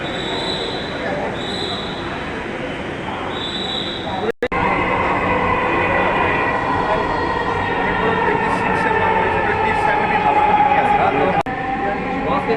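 A Dhaka metro rail train on the Mirpur line runs with a steady rumbling roar and a rising whine of the motors, heard from inside the car, with a few early electronic chimes and people talking.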